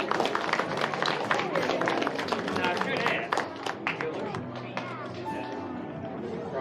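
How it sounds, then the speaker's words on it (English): Audience at a wildlife rescue show in West Edmonton Mall clapping for a volunteer, brisk close applause that fades after a few seconds as chatter continues. "Everybody give David a round of applause."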